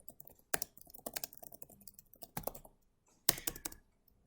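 Someone types code on a computer keyboard in quick, uneven bursts of close, crisp key clicks, with a few louder, sharper strokes and a short pause before the final flurry.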